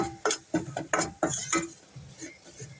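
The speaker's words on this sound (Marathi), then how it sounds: "ह्याला छान असं भाजून घ्यायचं" A spoon stirs flour roasting in ghee in a pan for a white sauce, making quick rhythmic metallic scrapes and clinks against the pan, close and fairly clear, with no voices.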